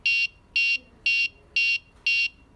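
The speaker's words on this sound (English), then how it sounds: "there's gonna be an alarm that rings" Five evenly spaced electronic alarm beeps from an Arduino home security buzzer, loud and shrill, each about a quarter second long with short gaps between.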